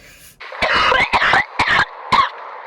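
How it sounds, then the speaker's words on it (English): A string of harsh, wet coughs, four or five bursts in quick succession, close and loud, with brief pauses between them. "worrisome and gross cough"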